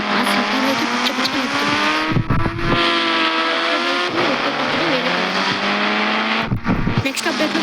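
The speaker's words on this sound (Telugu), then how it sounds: "ఇక్కడ బైక్లు కూడా నడుపుతున్నారు" Motorbikes in the mobile game Indian Bike 3D rev and race with rising and falling engine whine, occasional tire squeals and gear shifts, loud and continuous under a person talking.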